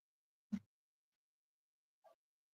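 A dog indoors behind a latched door gives two short, faint barks spaced over a second apart, with quiet in between.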